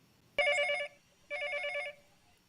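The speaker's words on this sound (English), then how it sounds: "The phone rings." A telephone bell rings in two distinct bursts with a short silence between them, clear and fairly loud against a quiet room.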